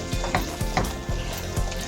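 Aloo qeema with kasuri methi cooking in a pan, loud steady frying sizzle with rhythmic stirring scrapes roughly every half second, close up and without speech.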